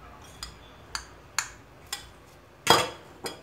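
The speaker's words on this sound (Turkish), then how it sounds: "Güzelce karıştırıyorum." A utensil stirring a lor and kaşar cheese filling in a bowl, giving a series of sharp, evenly spaced clinks and scrapes with one louder scrape near the end, close and alone.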